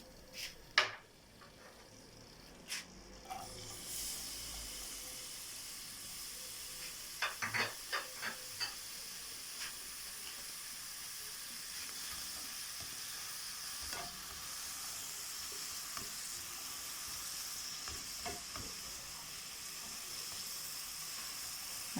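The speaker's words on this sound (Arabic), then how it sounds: "ندير الزيت هو الاول، غنشحروا فيه البصله" Onion fries in hot oil as the first step for crispy shrimp-stuffed rolls, a quiet, even sizzle with scattered stirring clicks and utensil taps, mostly early on, with no voices.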